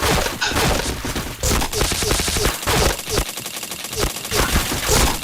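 Rapid, dense bursts of gunfire from a first-person shooter match fire continuously and loudly, with fast repeated shots throughout and no speech.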